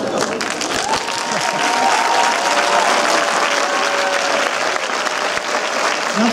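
Sustained applause from a packed cinema audience at a film premiere screening, dense and steady clapping filling the hall with crowd murmur throughout, fairly close and loud.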